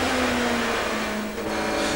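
Race cars, including a Peugeot, accelerating away from the start at the Zolder circuit in 1997 Belgian Procar touring car racing, a steady loud engine roar with no talk.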